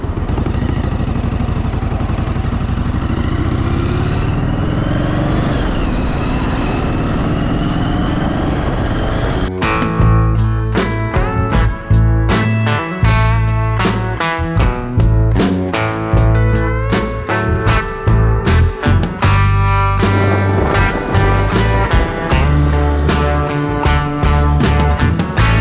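Yamaha Virago XV1100 motorcycle ridden on the road after being revived, a steady engine drone at first, then a loud, choppy, rhythmic pulsing of the motor as it moves, with no talk.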